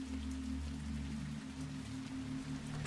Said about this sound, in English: go ahead and listen to the raindrops on this beautiful evening